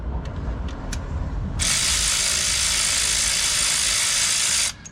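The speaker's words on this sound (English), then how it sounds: "test your ratchet. Make sure it's going the right way." A ratchet wrench is spun to test its direction during a Motorad FailSafe thermostat install: a loud, steady, rapid buzzing whir runs for about three seconds after a quiet start, then cuts off abruptly.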